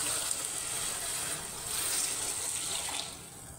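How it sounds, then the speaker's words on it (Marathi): Water pours steadily into a misal curry pan of onion and tomato, a continuous splashing stream that holds even for a few seconds and eases slightly near the end, with no talking. "आता आपण याच्यामध्ये पाणी घालूया।"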